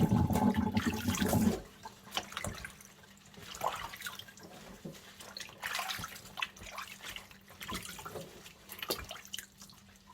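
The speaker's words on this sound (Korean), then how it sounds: "씻어볼게요. 두세 번 정도 헹궈 줄 거예요." Sea parsnip greens rinsed under running water, with a burst of gushing tap flow at the start, then softer splashing, dripping and handling of wet leaves, close and quiet with no talk.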